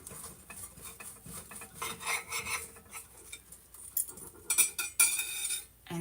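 A knife cuts a mushroom inside a chapati omelette, with irregular scraping and rasping strokes and light metallic clinks against a pan or plate, growing busier toward the end.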